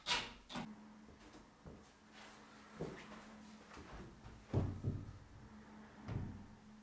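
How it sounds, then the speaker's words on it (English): Wooden French doors being refitted into their frame during hanging give a few quiet knocks, bumps and scrapes spaced over several seconds, close by with no talking. "And then I can refit the doors to check my progress."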